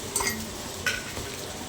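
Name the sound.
mixing chicken pakodi batter with chopped green chillies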